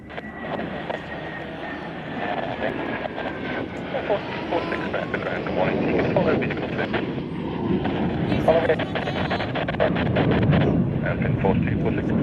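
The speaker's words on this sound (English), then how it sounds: "Final gear down to land." An aircraft comes in to land at the Royal International Air Tattoo, its engine drone growing steadily louder over wind buffeting the microphone, while a person talks throughout.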